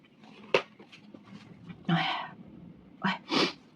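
Several short, sharp human sneeze-like bursts come close and fairly loud, scattered among soft breaths and faint background noise over a few seconds.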